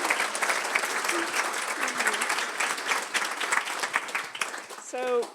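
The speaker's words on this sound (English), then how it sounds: "You can clap at that if you want." Wedding guests applauding after a speech, a steady dense wash of clapping from a room full of people that fades near the end, with a voice briefly heard over it.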